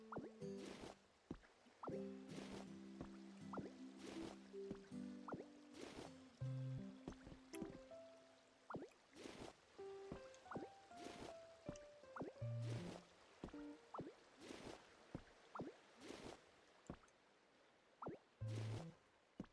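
Wooden planks being placed in the video game Pokopia, a series of soft, wet-sounding plops and drips repeating irregularly over tonal game music, with no voices.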